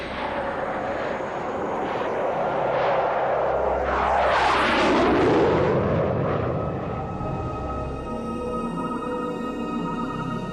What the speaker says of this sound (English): the Belgian Air Force were able to scramble 2 F-16 fighters to intercept the unidentified